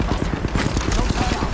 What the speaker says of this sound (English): they're trying to shoot through it